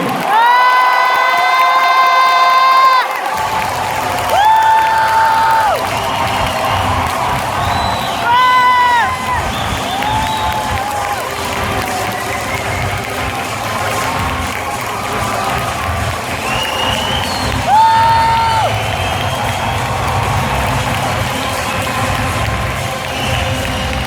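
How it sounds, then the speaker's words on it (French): A conference audience at the Toulouse Game Show breaks into loud, sustained applause mixed with cheers, whoops and shouts. The crowd roar fills the whole stretch, with bursts of amplified voice rising over it now and then. "Mais comme nous deux, ça n'a aucun intérêt, on va tout de suite vous demander de faire un tonnerre d'applaudissements à Monsieur Alexandre Astier."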